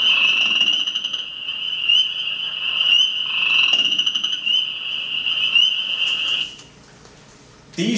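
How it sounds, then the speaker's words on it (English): Upland chorus frog calling amid a loud, steady frog chorus with insect-like trilling, nearby and continuous before cutting off near the end. "This is an upland chorus frog."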